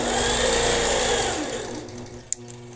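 Sewing machine stitching straight lines across a quilt, a steady close whir with a fine rapid needle pulse that eases off near the end, followed by a couple of short clicks.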